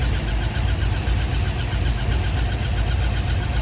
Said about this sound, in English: I got the infamous lifter tick, and then now it changed into a chirp or a squeaking.